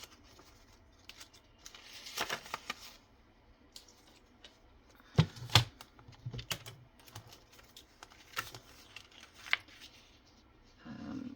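Paper being cut for a William Morris file folder folio, with scissor snips and paper rustling coming in scattered bursts, some close and sharp, over a quiet room.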